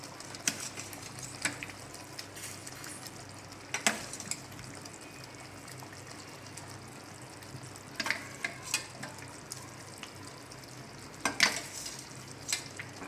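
Boiled vegetables sizzle in a pan of onion gravy, a steady frying hiss broken by several sharp clatters and scrapes as they are added and stirred.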